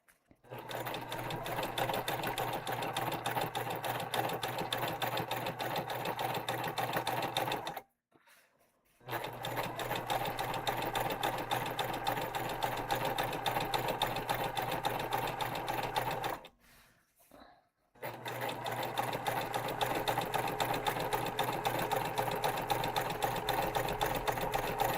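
A sewing machine top stitches a tote bag in long, steady runs, stopping twice for brief pauses before resuming, loud and close with no talking.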